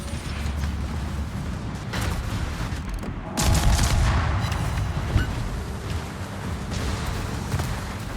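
Naval gunfire in World of Warships, a heavy booming salvo rising out of steady rumbling ship and battle noise, continuing as a dense roar.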